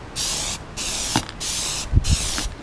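Plasti Dip is sprayed from an aerosol can onto a Toyota Supra dashboard in several loud, steady hissing bursts with brief gaps between them, heard up close.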